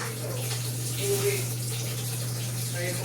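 Steady rush of water filling an automatic washing machine tub, with a constant low machine hum underneath and faint voices in the background.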